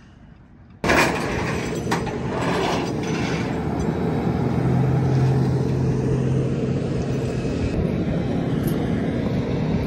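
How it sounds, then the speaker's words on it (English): A Jeep JL is loaded onto a flatbed tow truck during an off-road recovery: after a quiet start, a loud, steady mechanical whine and rumble kicks in abruptly and holds, with faint clanks. "Getting put on the flatbed."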